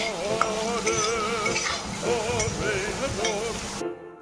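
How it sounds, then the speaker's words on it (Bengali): Chopped mango with mustard seeds, turmeric and salt being fried and stirred in a pan, heard as close scraping and stirring under a soft sizzle, with an occasional clink and background voices. "আধা চামচ হলুদ, আধা চামচ লবণ দিয়ে 2-3 মিনিট ভেজে নিচ্ছি আমগুলো।"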